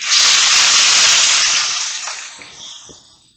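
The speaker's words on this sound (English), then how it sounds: "we're going to go ahead and get that steak in the pan" A steak sears in a hot pan with a loud, close, broad sizzling hiss that bursts up at once, then gradually fades and thins over a few seconds, with no voices.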